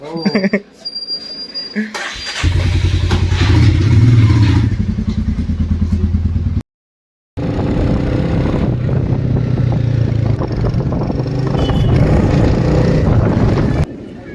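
A motorcycle ride on a road in Maharashtra, India, with a car travelling alongside: a loud, steady engine drone with road rumble and wind that cuts out for a moment, then resumes.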